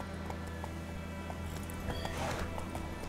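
A horse whinnying over the clip-clop of its hooves in the video game The Witcher 3, faint and steady under a continuous game background, with the neigh rising near the end.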